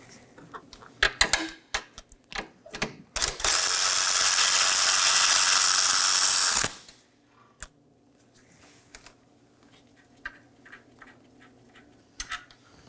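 A hand ratchet works loose the single 10mm bolt holding the horn on a 2018-2024 Chevrolet Equinox, with scattered clicks and clunks, a loud sustained whirring burst of several seconds, then more light clicking close by.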